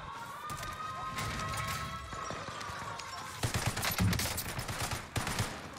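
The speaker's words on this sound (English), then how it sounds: "Been loving using the Cold War guns." In Call of Duty Warzone on Rebirth Island, Cold War guns fire in rapid bursts and scattered shots, with sharper, louder volleys in the latter half over a muffled game background.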